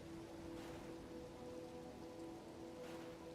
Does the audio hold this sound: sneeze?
no